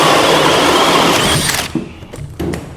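A Hercules 20V cordless drill runs a big hole saw through a workpiece, a steady loud whir and grinding that cuts off partway, followed by brief clunks and talk.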